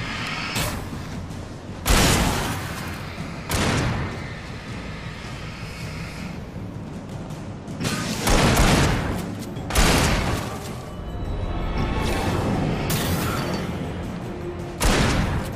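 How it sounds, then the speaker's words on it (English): Repeated shotgun blasts ring out in Alan Wake as a sheriff character fires at enemies; several loud, booming shots land a few seconds apart over a constant rumbling game background. "she's shooting at all the people all the time with her shotgun"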